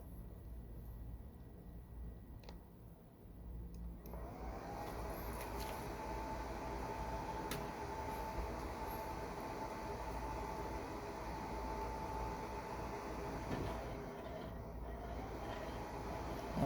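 An electric 430X generator spins up toward about 600 RPM, a low mechanical rumble joined partway through by a steady whining hum that holds at a constant pitch.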